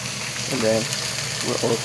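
Green onions frying on a hot grill pan for steak tacos, a steady close sizzle heard throughout with someone talking over it.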